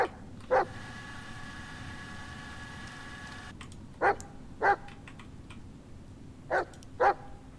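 A dog barking in the Blair Witch video game, five short sharp barks spaced irregularly over a low ambient drone, with a faint high tone in the background early on.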